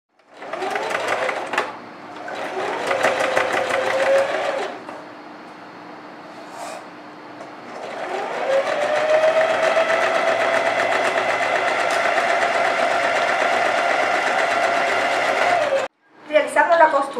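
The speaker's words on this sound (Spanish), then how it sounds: "Vamos a realizar costura con overlock y un overlock por el contorno del ruedo." An overlock sewing machine stitches fabric edges of a girl's outfit in long, loud, steady whirring runs broken by short pauses, close by and with no talk over it.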